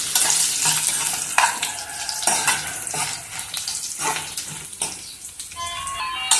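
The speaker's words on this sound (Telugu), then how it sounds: "దీన్ని ఎండుమిర్చి కదండి, కొంచెం స్పీడ్గానే ఫ్రై అయిపోతే చూసుకోవాలి" Dried red chillies frying in hot oil for a ridge gourd peel chutney, a crackling hiss broken by repeated scraping stirs and pan knocks, close and fairly quiet.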